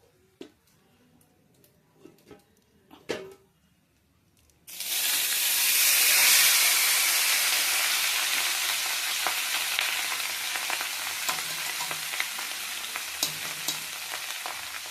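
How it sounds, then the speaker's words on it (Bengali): Cooked rice tipped into a hot pan with turmeric for lemon rice: a few quiet clicks and taps, then a sudden loud sizzle that bursts in and keeps hissing steadily, dotted with stirring scrapes. "এবার আমি রাইসটাকে দিয়ে দেবো।"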